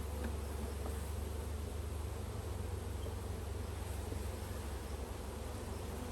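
Honey bees in a hive in Grand Rapids, Michigan, in early June during the honey flow, buzz as a dense, steady, low drone that stays even and fairly quiet throughout, with no voices.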